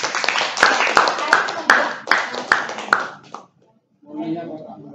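An audience at a question-and-answer session claps loudly for about three seconds, with a few sharp individual claps standing out, then goes silent before a voice begins talking.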